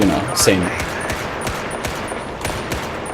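Automatic fire from a USMC weapon in the game BFHD Pro 2, sharp rapid bursts of gunshots in uneven clusters, close and loud, with faint talk early on.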